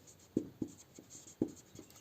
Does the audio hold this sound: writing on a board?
yes